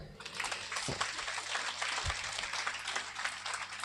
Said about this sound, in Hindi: हालेलुया, जोर से ताली बजाएं।